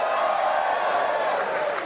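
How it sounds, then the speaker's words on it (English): A studio audience at a talk show cheers and whoops in a steady, loud crowd roar that holds without a break. "Why are you cheering?"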